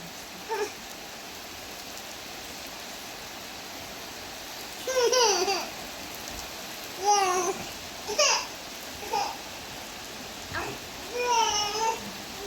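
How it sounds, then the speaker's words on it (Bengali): Rain falls outdoors as a steady, even wash of noise that lasts throughout, with several short, chirpy, voice-like calls rising over it now and then. "এই যে দেখেন বৃষ্টি হচ্ছে।"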